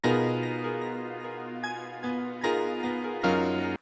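Unprocessed synth melody sample for a beat made in FL Studio, a layered sustained chord pad with a bright upper line, playing alone with clear note changes and a steady, fairly full level throughout.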